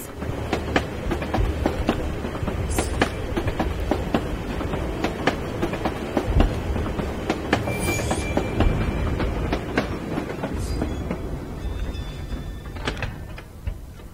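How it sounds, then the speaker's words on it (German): A tram rolls along rails in Assassin's Creed Chronicles Russia, a dense continuous rumble with rapid wheel clicks and clacks and occasional brief metallic squeals, loud and steady throughout. "This tram will take me to the edge of the Volga."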